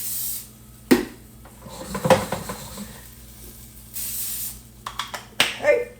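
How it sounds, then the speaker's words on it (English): Cooking spray is hissed onto food in a home kitchen, with short bright bursts near the start and end between quieter clatter of pans and utensils; no one speaks. "We're going to put a little spray on it."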